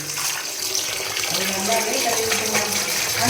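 Tap water runs steadily into a pot as meat is washed, a continuous splashing gush with voices talking over it.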